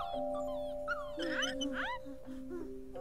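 A dog whimpers and yips in a Halloween video game, several short rising whines over a steady electronic hum and tones.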